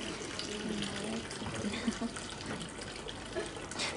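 Water drains steadily out of a soil model in a water-conservation demonstration, a continuous close trickling flow with a few faint bubbling gurgles and a quiet voice in the background.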